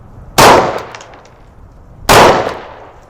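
Two loud, sharp gunshots about a second and a half apart from a PSA Dagger Compact pistol firing at 5-inch targets 10 yards downrange, each with a short ringing decay.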